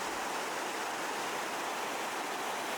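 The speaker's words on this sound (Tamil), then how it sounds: "தண்ணி வெளியே போயிட்டுருக்கு, நீங்கள் பார்க்கலாம்." Floodwater pours out of an overflowing lake at Anthiyur in Erode and washes across a road, a steady, full rushing roar with no break.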